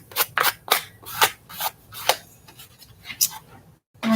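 Dry scraping strokes as a paper book page drags paint off a small card, about a dozen short rasping passes in an uneven rhythm, close and crisp, with a brief silence near the end.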